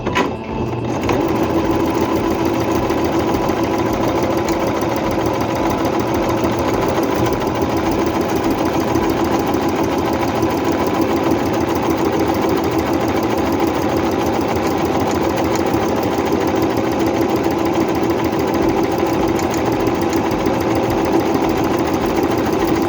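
A Singer C5605 electronic sewing machine stitches a buttonhole in fabric, a steady, rapid mechanical whir with even needle clatter running continuously and close, without any talk.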